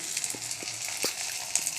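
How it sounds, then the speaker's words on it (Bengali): Black cumin (kalo jeere) sizzles in hot oil, a soft, steady crackling hiss with a few faint taps, fairly quiet and brief. "একটু কালো জিরে দিয়ে দেবো, মধ্যখানটা"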